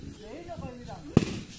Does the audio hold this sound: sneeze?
no